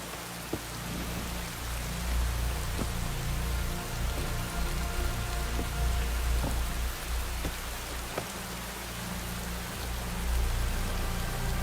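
Steady rain pours down outdoors onto Ganesh idols, a dense continuous hiss with occasional sharper drops and a low rumbling undertone, no voices.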